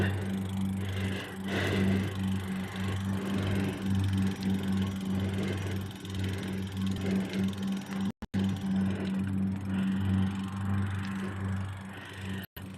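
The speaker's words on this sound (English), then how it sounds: "Oh, he's mowing." A lawn mower droning in the distance in an outdoor setting in Scotland, a faint steady hum with wind and ambient noise and two brief dropouts.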